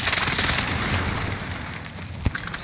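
Gunfire in the Call of Duty video game crackles in dense, continuous bursts with booming impacts, loud and close, and a sharp report near the end.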